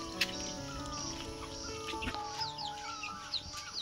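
Chickens cluck and chatter steadily at close range while being fed grain on a village farm, with scattered higher chirps over a constant background hum.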